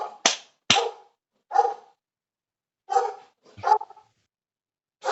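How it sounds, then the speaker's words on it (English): A dog barks in sharp, separate bursts, about six of them with irregular gaps between, close and loud against silence. "my dog just went nuts"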